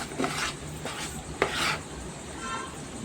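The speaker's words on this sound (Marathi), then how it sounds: "त्याला सतत हलवत राहायचं ढवळत राहायचं आहे सारखं हलवून हलवून" A spoon stirs a roasting mixture in plenty of ghee in a pan, making repeated scraping and rubbing strokes with a clink against the metal. A faint sizzle runs underneath. The stirring is close and moderately loud.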